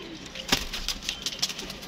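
Pigeons on a rooftop loft, a few quiet, scattered bursts of wing flutter and soft bird sounds, faint and somewhat distant, with no talking.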